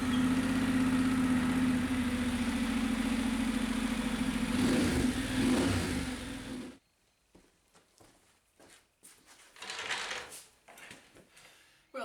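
A Honda NC750X motorcycle with 90,000 km, just serviced with fresh oil, sits idling with a steady low rumble for several seconds before it is shut off, leaving faint clicks and handling noises.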